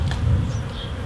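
Honey bees buzz steadily around a new hive box, a continuous low drone of many insects close by with no talk over it.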